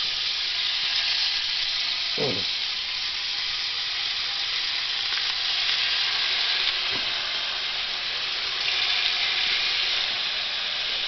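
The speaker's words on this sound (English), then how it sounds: "first up we got the bacon, which now I'm going to start cooking" Bacon fries in a pot with a steady, even hiss and sizzle that runs the whole time, close and moderately loud, with a couple of faint scraping stirs and no talking.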